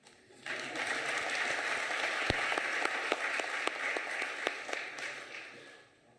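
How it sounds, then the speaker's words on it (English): Members of the National House of Traditional and Khoisan Leaders applaud in a formal hall, a soft, steady patter of many hands with sharper individual claps, fading at the end. "If you won't give yourself a round of applause, I will applaud you."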